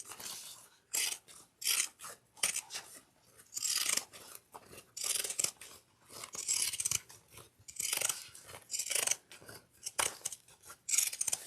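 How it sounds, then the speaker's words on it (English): Scissors trim fabric down to a quarter-inch seam allowance for a crossbody bag, giving repeated close crisp snips and rasping cuts in irregular bursts with short pauses between. "we're going to trim this down to a 1/4 of an inch seam allowance"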